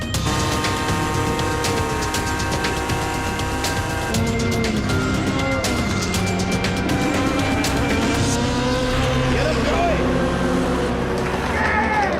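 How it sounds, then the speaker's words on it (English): A Ford GT and a Ferrari race car accelerating at Le Mans, engines droning and rising in pitch as they pull through the gears, with tire noise, loud and sustained throughout. "The Ford accelerated seems to about the same level, but eventually the Ferrari gets to a plateau and the Ford just seems to keep pulling."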